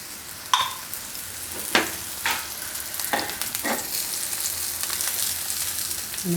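Moong dal uttapam sizzling steadily in oil on a griddle after being flipped, with a few sharp scraping or turning noises over the constant frying hiss.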